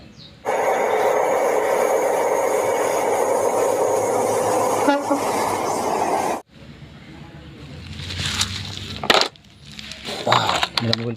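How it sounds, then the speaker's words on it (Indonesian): Toy high-speed train running with a loud, steady electronic horn and motor tone for several seconds, then cutting off into clattering and clicking handling noises. "Wow, ini ada kereta api cepat."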